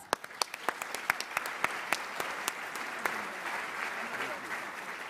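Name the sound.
audience applause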